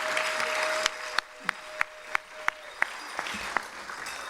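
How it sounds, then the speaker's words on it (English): Applause from an audience at a Trans Pride awards event in Washington DC, a steady wash of clapping with a few sharp individual claps standing out nearby. "Let's give them another round of applause"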